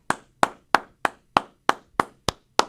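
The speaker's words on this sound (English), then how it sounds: "G-Man's clapping" A single person claps alone in a sports talk show studio, giving nine crisp, evenly spaced claps at a steady rhythm, close and clear with silence between them.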